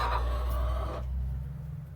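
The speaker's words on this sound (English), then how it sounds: "Hi birds, good morning." Backyard chickens in a coop with nesting boxes give a short crowing or clucking call, close and moderately loud for about a second before fading into quiet room noise.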